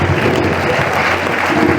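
An audience at a tribute evening for Jacques Parizeau claps loudly and continuously, a close, even roar of many hands with a low hum underneath and no speech.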